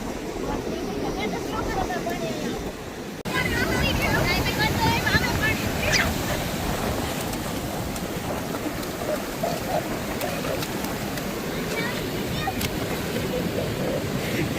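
Sea waves rumble and wash in a continuous loud roar, with heavy wind buffeting the microphone close up and people talking faintly underneath.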